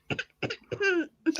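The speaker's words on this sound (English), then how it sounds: "don't cough on that one" Three short, harsh coughs in quick succession, close and fairly loud, followed by a brief throat sound at the end.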